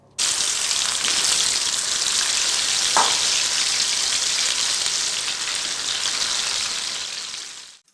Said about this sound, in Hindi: उसके बाद नमक और हल्दी लगा के इसे फ्राई करना होता है तेल पे।